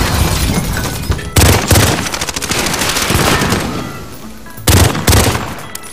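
Call of Duty video game gunfire: loud automatic bursts and sharp single shots in several clusters, with heavy impacts punctuating a continuous rattle of weapons.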